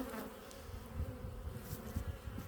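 Honeybees buzzing around hives at an apiary in late October, a steady low drone of many insects close by with no voices.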